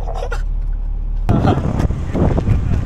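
A BMW sports car engine revs hard under heavy throttle, a loud, close roar that surges in suddenly after a quieter idle and holds at full rush.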